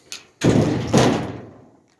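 A pickup-truck bed cover slams shut on a Dodge D150: a faint click, then two solid, booming thuds about half a second apart, each ringing briefly before fading out.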